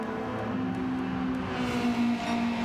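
A Subaru WRX race car at a charity tuner track event drives at sustained high revs down a straight, its engine a steady loud drone that swells slightly toward the end, with no talking.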